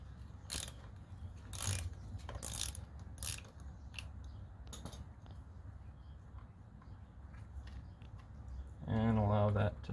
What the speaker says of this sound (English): take our ratchet, and remove our oil filter